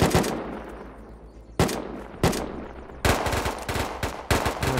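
Gunfire in the survival game Unturned, several sharp bursts of automatic fire and single shots spaced irregularly, each fading into a long echoing tail, fairly loud with no speech.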